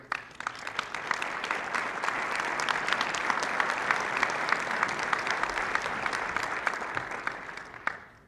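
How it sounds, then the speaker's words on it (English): Banquet audience applause for Henry Boucher at a hockey award banquet, a steady wash of many hands clapping for about eight seconds before cutting off, with little talk over it. "why don't you stand up here and we can applaud you"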